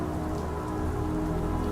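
Rain falling in storm season, a dense steady patter of drops on surfaces, loud and close with no voices.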